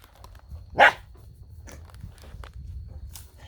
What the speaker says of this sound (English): a barking dog.